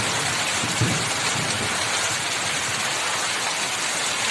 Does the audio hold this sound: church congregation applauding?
no